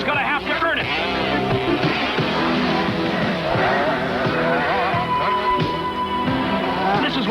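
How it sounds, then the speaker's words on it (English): ATC three-wheelers race close together on a hard-packed dirt track at the 1983 national championship in Santa Cruz, California, their engines snarling and rising in pitch continuously while a commentator talks over them. "This is what three-wheeler racing is all about."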